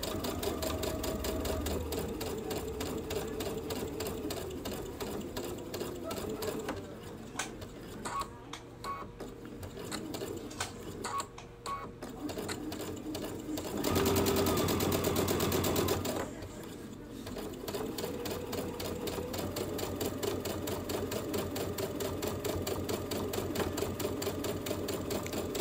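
A Brother Baby Lock sewing machine with an edge joining foot runs in a fast, steady whir of stitching, with a short pause and a brief change in pitch midway before it resumes.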